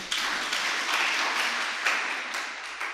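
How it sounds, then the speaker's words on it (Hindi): An audience at a Jain monk's religious discourse applauds steadily, a dense wash of clapping that stays loud for the whole stretch with no talking over it. "ताली नहीं बजाई इस पे?"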